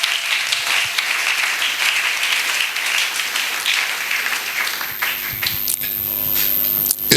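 Church congregation clapping and cheering in praise, a dense, sustained wash of applause filling the room at steady loudness throughout, with a few sharper bursts near the end and no voice standing out.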